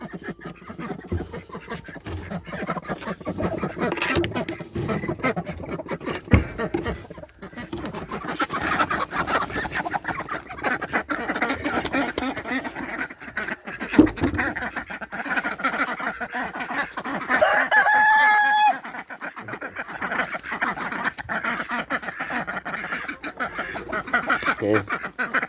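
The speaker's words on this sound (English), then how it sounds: "Good morning geese." On a farm, geese, ducks and chickens are let out in the morning, filling the air with continuous honking, quacking and clucking at moderate distance, with a voice speaking briefly over them.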